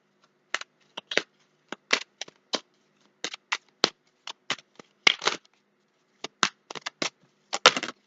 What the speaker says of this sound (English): a lot of cards flew out actually.